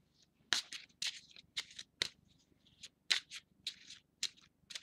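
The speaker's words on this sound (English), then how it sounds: "So I'm going to shuffle them and pull a card" A deck of oracle cards being shuffled by hand close up, a series of crisp riffling bursts in an uneven rhythm with short quiet gaps between.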